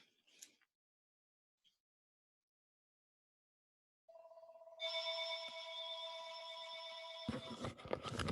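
A telephone rings during a math lecture: a steady electronic ringtone starts midway after near silence, loud and sustained, with a burst of broadband noise near the end.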